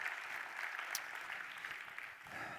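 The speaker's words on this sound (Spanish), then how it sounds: "Vamos a darles un aplauso a ellos por ayudarnos con esto." Sustained applause from a church congregation during a Spanish-language service, a steady wash of clapping held at an even level throughout, without talk.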